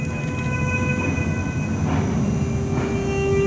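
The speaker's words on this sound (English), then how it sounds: "hopefully we can get a read on audio performance as this train comes into the station" A train pulls into an indoor station, its loud, steady rumble of wheels and carriages filling the space, with faint squealing tones and a rising hum as it comes in.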